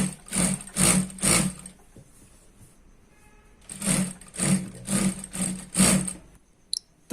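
Sewing machine stitching stretchable fabric for a dhoti salwar, running in several short bursts of a few seconds each with brief pauses between them, close and fairly loud, with no talking.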